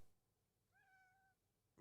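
A pet cat gives one soft, drawn-out meow, quiet and fairly close, a clear tonal cry lasting about half a second in an otherwise hushed room, followed by a faint thump at the end.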